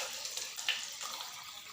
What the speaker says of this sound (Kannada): ಇಲ್ಲಿ ನಾನು 6 ಗ್ಲಾಸ್ ನೀರು ಹಾಕ್ಕೊಂಡು 6 ಗ್ಲಾಸ್ ಮೇಲೆ ಸ್ವಲ್ಪ ನೀರು ಹಾಕ್ಕೊತೀನಿ ನಾನು.